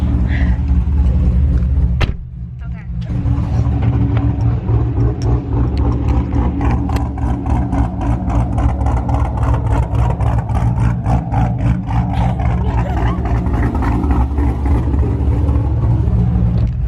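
A cammed Chevrolet Camaro engine idles with a loud, lumpy rumble and revs in short bursts, close and steady apart from a brief dip, as a beginner learns to drive stick in a parking lot.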